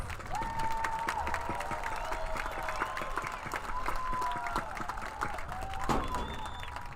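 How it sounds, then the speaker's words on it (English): Crowd applause and light cheering at a high school graduation ceremony for the class of 2024, heard from a distance and fairly faint, with a sustained tone and some voices over the clapping. "So let's give them a round of applause."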